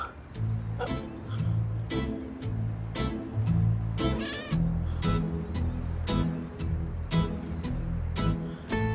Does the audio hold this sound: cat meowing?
yes